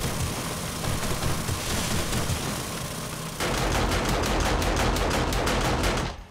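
Rapid gunfire from the video game 7 Days to Die: after a steady wash of ambient noise, a loud burst of evenly spaced automatic shots rattles on for about three seconds, close and sustained, with no talking.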